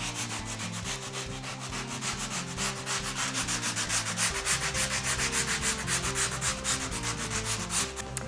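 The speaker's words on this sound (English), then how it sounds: "let me go ahead and give this a good sand" Rhythmic sanding, a close, rasping back-and-forth scrub repeated rapidly and evenly throughout, with a faint low hum underneath and no talking.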